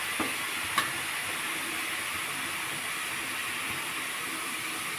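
Grated onion and garlic fry in hot oil in a kadai with a steady, even sizzle and hiss throughout. A couple of faint clicks sound near the start.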